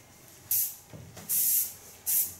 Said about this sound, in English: Put a little bit of hairspray.